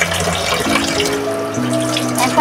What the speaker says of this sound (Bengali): এখন আমি আমার খেজুরগুলো ধুয়ে নিচ্ছি